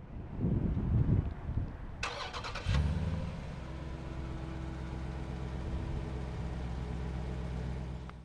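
A 2018 Dodge Durango SRT 392 V8 remote-starts from the key fob: a brief starter whir, then the engine catches with a loud bark and settles into a steady, deep, rumbling idle close by, with no talking.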